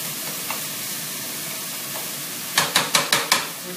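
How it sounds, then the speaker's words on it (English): Meat searing in a pan for chili, a close, steady hiss of frying with a quick run of five rhythmic scraping stirs near the end, and no talking. "you gotta know that you're really kind of searing this meat"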